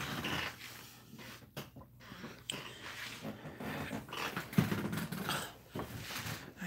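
Dogs growl low and rumbling in a living room, a steady grumble with a few sharper bursts, close by and fairly loud throughout.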